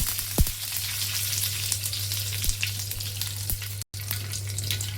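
Mustard seeds, cumin and curry leaves sizzle in hot oil for a Vidarbha-style cauliflower dish, a steady close frying hiss broken by a few sharp pops and crackles.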